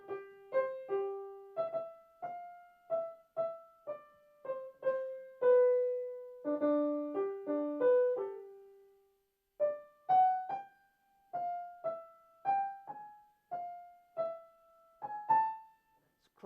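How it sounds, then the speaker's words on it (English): Solo piano plays the idée fixe melody from Berlioz's Symphonie fantastique, a winding single-line tune of struck, ringing notes at a moderate, steady pace, heard alone without speech. "I'll demonstrate a couple more things on the piano."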